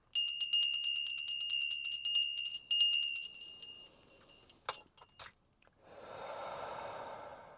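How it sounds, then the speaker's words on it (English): A bell rung to clear energy gives a bright, shimmering ring that decays over several seconds, followed by a few soft clinks and then a long, audible exhale. "I'm going to ring the bell in 3,"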